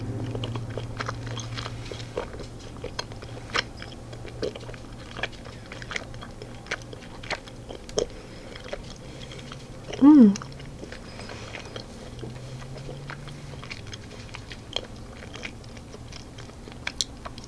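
Soft, sparse chewing of salted caramel dark chocolate Valentine's Day candy, close and quiet, with faint mouth clicks and one brief louder bite partway through over low background hum.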